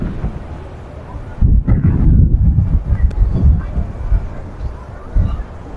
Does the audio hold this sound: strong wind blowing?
yes